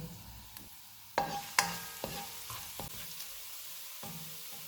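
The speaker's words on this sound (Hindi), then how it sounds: "ऑयल गर्म हो गया, इसमें चॉप किया हुआ 2 टेबलस्पून लहसुन डालेंगे।" Chopped garlic sizzles in hot oil with clattering stirs and scrapes from a utensil, several sharp knocks over a steady crackling hiss.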